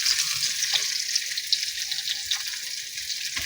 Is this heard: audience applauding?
no